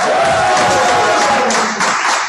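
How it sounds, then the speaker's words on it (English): A comedy show audience breaks into loud, dense applause and cheering that stays steady for a couple of seconds before thinning slightly, with voices mixed into the clapping. "Give yourself a round of applause."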